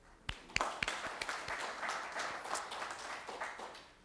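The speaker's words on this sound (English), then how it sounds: "another round of applause for Mr." An audience applauds for speaker Gamfer after his talk on Cincinnati's West End, beginning with a few sharp nearby claps that swell into a fuller, moderate round of clapping.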